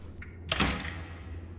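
A single door opening with a short dull thunk in the video game Creature Packets, a brief close sound after a faint click, over a low steady background hum.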